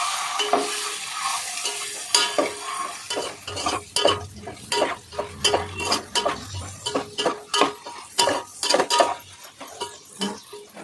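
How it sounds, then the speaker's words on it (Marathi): Halved boiled eggs frying in a pan for egg biryani, with repeated scraping and clinking of a spatula against the metal pan over a steady sizzle, close and fairly loud, with no talk. "अंडी फ्राय करून घेणार आहे जी आपण पहिले पहिल्यांदा उकडवून घेतली होती ती अंडी आता फ्राय करून घेऊया"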